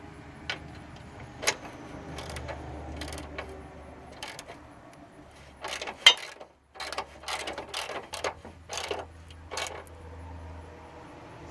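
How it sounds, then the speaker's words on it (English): A ratchet clicks in short irregular bursts while tightening 24 mm nuts and bolts during front suspension installation on a GMT400 truck, quiet and close with brief metallic clinks between strokes. "I'm tightening it with the ratchet"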